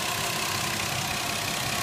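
A car engine idles with a vacuum leak, a steady, even running drone with a broad hiss and no talking.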